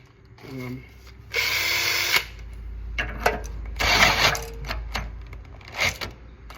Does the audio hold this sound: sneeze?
no